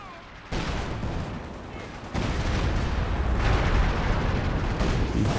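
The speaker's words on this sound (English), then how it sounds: "Assault artillery called in the back." An assault artillery barrage falls in the Company of Heroes 2 war game, a heavy rumbling roar of shelling that kicks in abruptly and then grows louder and denser partway through.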